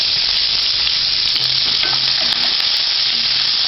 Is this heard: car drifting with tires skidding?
no